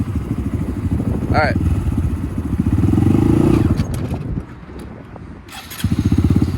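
A Honda Grom motorcycle is started with the clutch held in, then its engine thumps in rapid, close pulses that swell, drop away briefly and pick up again. A voice speaks briefly over it.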